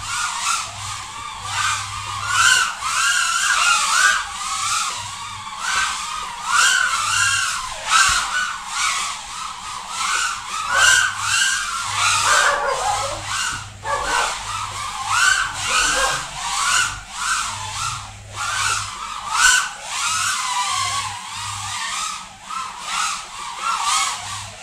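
A TinyWhoop FPV micro drone flies fast outdoors doing freestyle, its tiny motors giving a loud, close, high-pitched whine that rises and falls continuously as the throttle changes.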